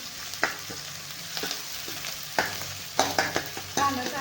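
Onion fries in a pan for a village-style sprouted-legume curry: a soft steady sizzle runs underneath while a spoon stirs it, giving occasional sharp clinks and scrapes against the pan.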